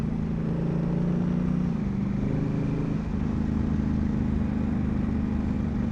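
A Honda Africa Twin motorbike ridden along a gravel forest road, its engine droning loud and close with shifting pitch over constant rumble and wind.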